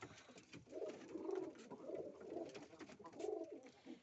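Pigeons coo in low, throaty, rolling phrases that rise and fade in a few bursts, close by, with faint rustling in between.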